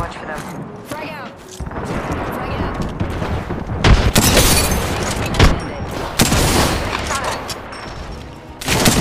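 Frag grenade blast followed by heavy gunfire in a first-person shooter match, loud bursts and booms piling up densely over about nine seconds, with players talking over the action.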